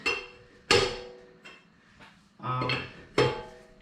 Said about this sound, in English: now those are pretty snug, so you put your lug wrench down